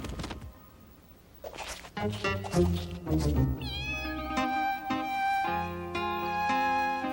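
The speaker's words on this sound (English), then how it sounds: "I must leave Pablito the cat here" A cat meows several times close up, drawn-out and plaintive cries that overlap with light music and then fade into sustained musical notes.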